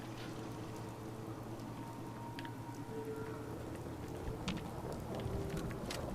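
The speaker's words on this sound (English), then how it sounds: "This rain is gonna ruin my notes" Rain in the video game Fallout 4 falls as a steady, soft hiss with scattered drop ticks and a low background hum, continuous and moderately quiet.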